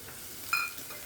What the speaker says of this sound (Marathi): आपण हे 2 कांदे जे बारीक चिरून घेतलेत आपण ते घालूयात या तेलात